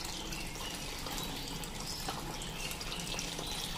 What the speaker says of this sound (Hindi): दूसरा आरओ का पानी डाल देती हूँ।